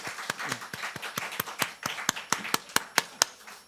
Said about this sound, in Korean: 악기로 수고하신 귀한 형제자매님, 집사님들께 감사 박수 한번 드리겠습니다